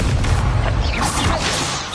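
Leviosa spell being cast in Hogwarts Legacy, a dense magical whooshing shimmer with a booming low rumble underneath, steady and loud throughout.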